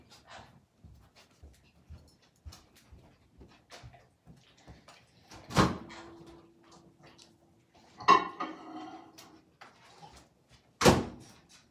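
A kitchen microwave oven used to cook a mug cake: soft clicks and taps lead up to a few sharp, loud door thuds, with a brief low hum between them.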